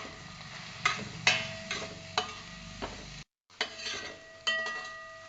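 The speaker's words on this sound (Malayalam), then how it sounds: "കുറച്ച് ചിക്കൻ മസാല, മുളക് പൊടി, കുരുമുളക് പൊടി ഇത്രയും ചേർത്തിട്ട് നന്നായിട്ടൊന്ന് ഇളക്കാം" Chicken masala, chili powder and pepper powder are stirred in a bronze uruli. A spoon scrapes and taps the metal in an irregular rhythm over a soft sizzle, with one brief dropout.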